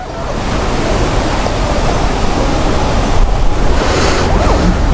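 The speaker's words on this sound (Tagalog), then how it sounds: "Lakas ng hangin." Strong wind buffets an outdoor spot near a halo-halo and sizzling restaurant, a steady roar of broadband rushing noise with gusts swelling toward the end, no voices over it.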